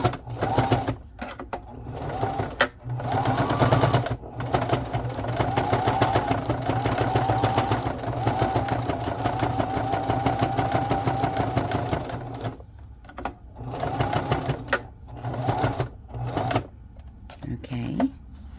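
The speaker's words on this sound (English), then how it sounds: "I folded it, and I'm going to sew it real fast." A sewing machine stitches a folded fabric clutch in rapid whirring bursts, starting and stopping several times, close and clear.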